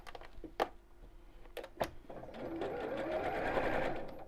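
A sewing machine zigzag-quilts fabric, starting with a few sharp clicks and knocks, then a steady whirring mechanical stitching run.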